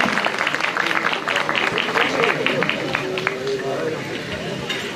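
A crowd applauds as a world champion and his coach are called to the stage at a park opening ceremony, sustained clapping under crowd chatter, with a voice speaking briefly partway through.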